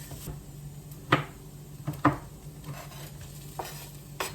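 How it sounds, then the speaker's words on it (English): Bacon in hot oil with garlic is stirred in a pan, producing a soft continuous sizzle broken by a few distinct scraping clacks of a utensil against the pan. "I'm just gonna stir it in so that it's all coated in oil"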